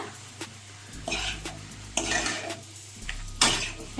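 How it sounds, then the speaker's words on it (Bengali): Fried note shak greens are stirred in a pan with pre-fried lentil vadi dumplings and potato, giving a soft background sizzle broken by several scraping, clattering strokes of a spatula against the pan, with no speech. "এবার ভালো করে নেড়ে চেড়ে আমি আগে থাকতে ভেজে রাখা বড়ি ও আলুটি দিয়ে দেব"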